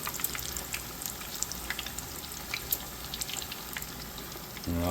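Fat crackers frying in hot oil on a homestead stove, a steady dense crackle and sizzle with scattered pops, heard close, with a brief louder clatter at the very end.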